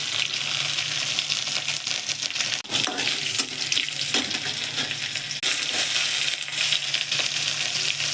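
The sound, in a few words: chillies frying in refined oil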